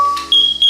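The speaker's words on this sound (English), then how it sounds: "This is only a test. Testing smoke. Testing carbon monoxide." A Nest Protect smoke and carbon monoxide alarm sounding during a test: a short pure electronic chirp followed by a sustained high-pitched beep tone with a brief dip, loud and close.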